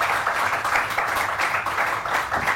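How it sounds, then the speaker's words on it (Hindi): A studio audience on a Pakistani morning talk show applauds for Rima, a steady, dense burst of clapping that stays loud and even from start to finish with no pauses. "रीमा के लिए बहुत सारी तालियां।"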